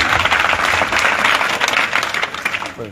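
A village crowd in Barvala claps loudly to welcome politician Gopal Italia on a campaign visit, a dense, continuous round of applause close by that thins slightly toward the end.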